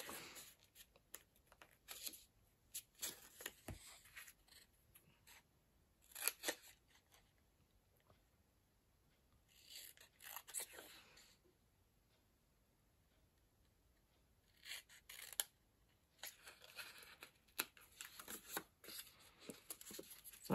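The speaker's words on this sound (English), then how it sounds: "I cut up about a centimetre and I cut from the corners into that." Scissors snipping through patterned scrapbook paper to cut a banner with a centre fold and corner cuts, heard as quiet bursts of short crisp cuts separated by long pauses, with no talking.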